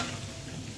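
Kadhi tempering of ghee and oil sizzles in a pan, a brief, quiet, steady hiss heard alone.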